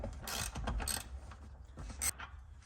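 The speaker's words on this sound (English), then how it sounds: "So you got another T50 right here. Just go ahead and crank it loose and get it out of there." A ratchet cranks a T50 bolt loose on a BMW seat, giving a quick run of soft clicking pawl strokes and metallic ticks, fairly quiet and close.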